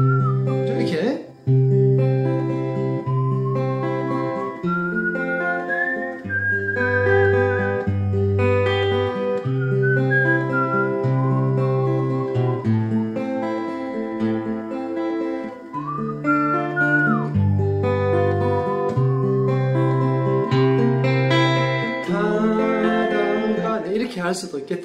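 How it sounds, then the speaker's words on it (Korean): A person whistling a melody over a guitar accompaniment, the clear whistled tune gliding above steady strummed chords for about 25 seconds. "아니면 좀 휘파람이 되는 분이라면"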